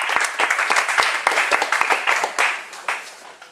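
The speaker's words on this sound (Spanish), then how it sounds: "un aplauso para las escritoras," An audience at a romance writers' literary gathering in a bookshop claps for the authors, a lively burst of many hands with distinct sharp claps standing out, steady throughout and slightly thinning near the end.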